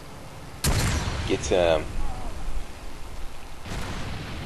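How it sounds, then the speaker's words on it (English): Rocket launcher firing and exploding in Far Cry 2, a sharp loud blast followed by a rumbling roar and a second fainter boom near the end, with someone speaking briefly over it. "it's great to be able to steer those rockets after you launch them"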